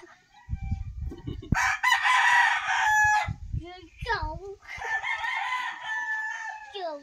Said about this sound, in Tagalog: eat that chicken.